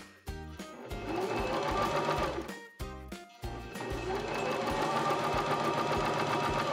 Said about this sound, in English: And I do go a little slower when I'm top stitching